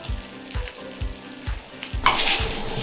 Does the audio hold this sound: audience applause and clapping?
no